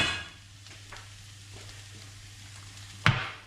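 Curry powder frying with softened onions in a pan for a veg curry, a steady low sizzle running quietly throughout, with a sharp clatter of a utensil against the pan near the end.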